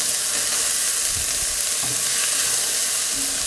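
Onions dropped into hot oil in a Dutch oven, frying with a loud, steady, close sizzle that fills the whole stretch without pause or speech.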